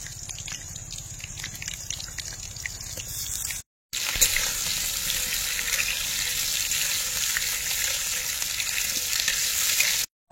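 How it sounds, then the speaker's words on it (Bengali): Potatoes fry in oil in a wok at an outdoor village cooking spot in winter, a moderate sizzle that cuts off briefly, then returns louder and steady, close by, with no talk. "আমি এইদিকে আলুটা ভেজে নিই"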